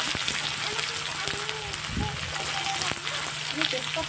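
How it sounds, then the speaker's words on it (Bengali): Onion frying in hot oil with whole spices for chicken curry, a continuous close sizzle with crackling pops and a few light stirring knocks. "এবার পেঁয়াজটা একটু লাল করে ভাজা হবে।"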